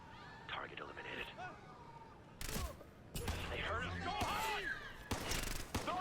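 Gunfire in Ghost Recon: Future Soldier: loud broadband bursts of shots and rapid volleys come in clusters over a few seconds, mixed with game chatter and voices.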